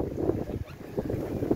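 Blustery wind buffeting the microphone aboard a Sun Odyssey 35 yacht sailing close-hauled back to Gruissan in a 19–20 knot breeze, low rumbling gusts that rise and fall with brief lulls.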